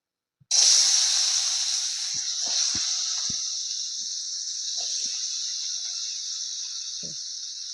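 Chopped spinach greens for paruppu keerai kadaisal hit a hot kadai and set off a sudden loud sizzle that settles into a steady hiss, with a few faint utensil clinks.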